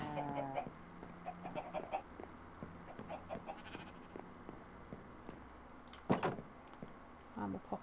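Chickens clucking in the video game Minecraft Sky Factory 3: repeated short clucks and squawks over soft game ambience, with a louder squawk burst near the end, under someone talking.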